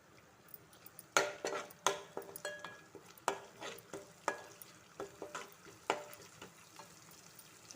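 Cumin seeds and curry leaves frying in a pan for a chicken fry, a soft steady sizzle punctuated by sharp, close spoon clinks and scrapes against the pan at an irregular rhythm, no voices.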